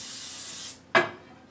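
Cooking spray hisses onto a pan in one short, sharp burst, close and clear, following a steady softer hiss.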